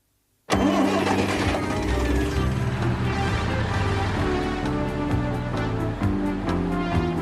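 A cartoon car's engine cranks and catches abruptly, then settles into a loud, steady mid-pitched running rumble as the vehicle sets off, with bright cartoon music playing over it.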